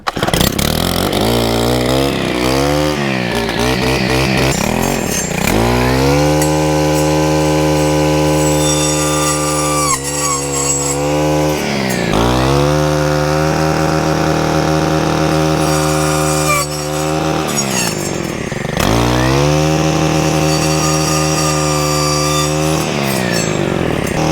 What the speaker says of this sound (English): see just how well that chisel tooth blade works